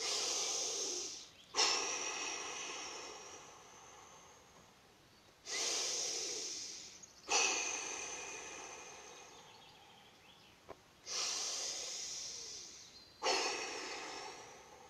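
Forceful breathing from a forest wake-up exercise: three slow rounds of deep inhaling and exhaling, each a long, close, airy rush with short gaps, no speech over it.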